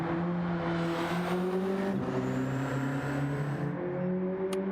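A car drives fast around a race track, its engine droning loud and steady close by, the pitch rising and falling as it shifts and takes the corners, with no voices.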